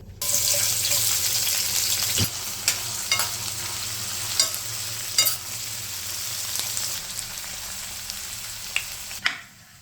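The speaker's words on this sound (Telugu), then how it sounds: "ఇప్పుడు ఉల్లిపాయలు డీప్ ఫ్రై చేసుకోవాలి" Onions deep frying in hot oil for a mushroom biryani, a steady loud sizzle throughout with occasional sharper pops and stirring scrapes.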